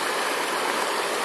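River water rushes steadily past a partly removed beaver dam of sticks, stones and mud on the Purgatoire River, a close, dense, continuous flowing roar with no voices.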